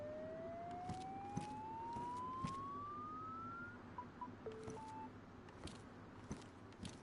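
A police siren in the DayZ video game wails with a long rising sweep, then shifts to short stepped electronic tones, steady and fairly loud against a noisy background with scattered clicks.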